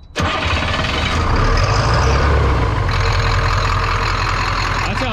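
A short bus engine fires up with an abrupt start, then settles into a loud, rough, throbbing run, close by. The truck is suspected of a faulty ECM or cam sensor, and its note shifts slightly partway through.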